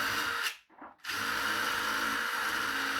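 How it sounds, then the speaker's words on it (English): A power drill spinning a wire wheel grinds steadily against a forged metal drawer handle, polishing off scale, loud and close, with a brief pause before the whirring abrasion resumes. "I'll then polish off any remaining scale or oxides with a wire wheel in my drill."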